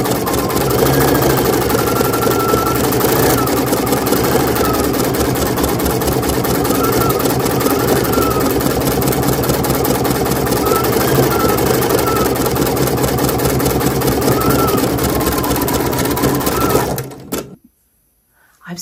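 A Husqvarna Designer Epic 3 embroidery machine stitches out a leafy floral design, a loud, dense, steady mechanical whirr with rapid needle chatter that runs close for over fifteen seconds before stopping abruptly.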